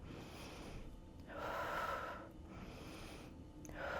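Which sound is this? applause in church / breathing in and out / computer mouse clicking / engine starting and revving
breathing in and out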